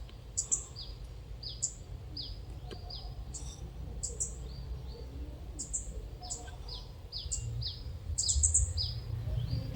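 Chirps from a female decoy bird, out in the countryside, sound as short, bright calls that repeat in quick clusters throughout. They carry over a steady low rumble of background ambience, and no one speaks.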